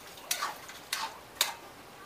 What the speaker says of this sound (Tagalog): Hahaluin uli natin para magsama-sama na yung sahog niya.